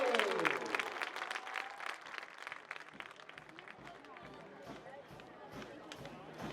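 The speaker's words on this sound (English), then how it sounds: "please join me in giving these members of these two outstanding teams a great round of applause" Fans in the stands at a college football game between Ripon and Cornell give both teams a round of applause, distant, thin clapping that fades after an announcer's voice at the start.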